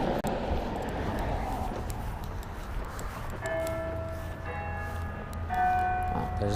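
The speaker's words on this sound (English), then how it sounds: "Oh, there's the 5 o'clock bell." A church bell rings out for five o'clock, distant strikes with lingering tonal hum emerging over outdoor wind and rustle beside water.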